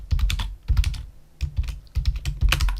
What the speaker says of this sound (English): then you just type whatever you want to type in there.